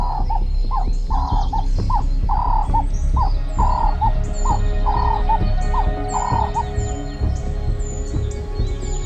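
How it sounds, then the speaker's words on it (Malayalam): A bird calls from a tree branch in an African forest at Pilanesberg National Park, repeated short hooting notes in a steady rhythm, with other birds chirping faintly in the background. "കാട്ടിനുള്ളിലെ മരച്ചില്ലയിൽ ഇരുന്നൊരു പക്ഷി കൂകി വിളിക്കുന്നുണ്ട്."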